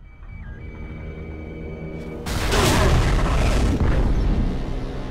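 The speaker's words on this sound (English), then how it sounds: "Detonate the tunnel!" A tunnel detonation in the video game BioShock 2 Minerva's Den, a loud, sudden booming blast that swells into a sustained rumbling roar after a low hum.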